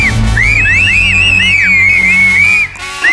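A loud, sustained piercing whistle that warbles and swoops up and down in pitch for about three seconds, close and dominant, welcoming a guest on a comedy cookery show.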